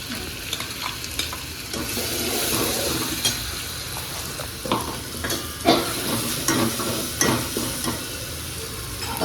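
Mustard seeds, cumin, chillies and garlic sizzle and crackle steadily in hot oil for a home-cooked Kattina sambar, with stirring and scattered sharp pops throughout, close and fairly loud, no speech.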